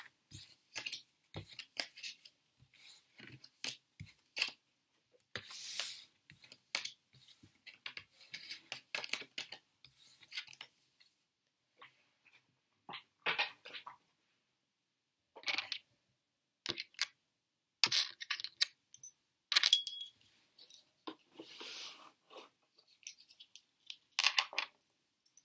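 Tarot cards gathered up and put away, heard as scattered close taps, slides and small clicks of cards being handled. The sounds come in irregular bursts between quiet gaps, with no talking.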